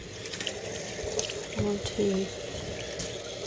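Water from a kitchen-style sink tap runs and swirls softly while raw Shetland wool is rinsed, a quiet steady trickle under a woman's brief speech.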